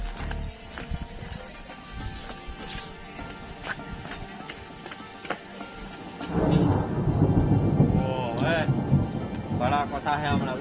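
Thunder rolls low and heavy during a rainstorm with wind, rain falling throughout and the rumble swelling loud in the second half, with people talking in Gujarati.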